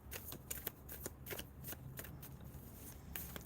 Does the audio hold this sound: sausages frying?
no